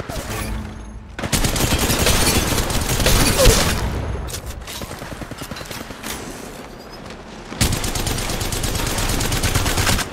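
Rapid automatic gunfire rattles through a ranked match of the mobile game Apex Legends Mobile, in long dense bursts with short pauses between, loud and close.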